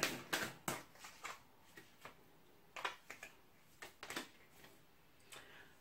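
Tarot cards being shuffled by hand in three rounds, giving quiet, crisp riffling bursts and soft taps spaced unevenly, close and with no talking over them.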